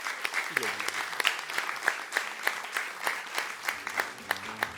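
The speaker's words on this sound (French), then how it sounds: "Est-ce qu'on peut l'applaudir très très fort?" Applause breaks out as a festival grand opening welcomes a guest on stage, a quick steady clatter of many hands with sharp individual claps standing out, moderately loud and continuous throughout.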